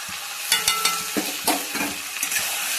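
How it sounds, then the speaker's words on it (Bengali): Spices with ginger paste, Kashmiri chilli powder and coriander powder frying in a pan, a continuous sizzle broken by irregular scraping stirs and soft knocks of the utensil, fairly close. "এগুলোকে ভালো করে এখন কষিয়ে নেব"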